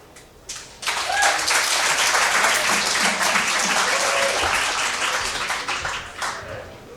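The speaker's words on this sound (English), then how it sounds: "Another round of applause" Audience applause at an arts showcase erupts after a quiet moment, a dense, loud burst of many hands clapping that holds steady for several seconds before thinning out.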